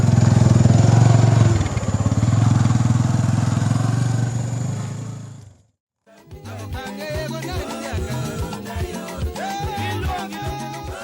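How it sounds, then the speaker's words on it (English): Two motorbikes ridden through rural bush, a loud close engine drone for several seconds that cuts out abruptly before music takes over. "We ordered 2 motorbikes from Chikapa and traveled 50 kilometers through the bush."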